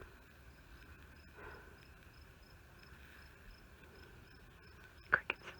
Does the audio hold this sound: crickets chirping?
yes